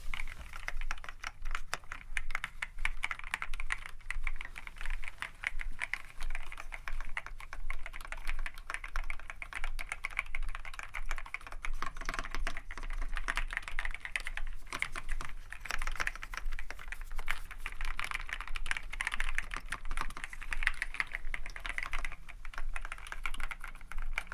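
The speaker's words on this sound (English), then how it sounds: "listen of this very, very nice sounding keyboard you've got here" Clicky computer keyboard typed steadily at close range, a dense continuous patter of sharp key clicks lasting the whole stretch with no voices.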